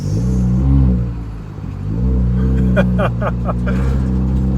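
A 2019-2020 Honda Accord Sport 1.5T engine with its resonator deleted rumbles loudly and steadily, dipping briefly before climbing again, with a few sharp bursts near the end.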